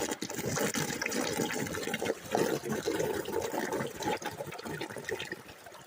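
Water gushing and churning through a gold sluice bucket feeder as sticky clay is washed, a steady dense wash of liquid sound with continuous splashing and flow, fairly close and with no talk.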